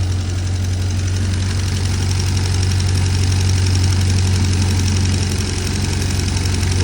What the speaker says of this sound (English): She's a tired old engine really.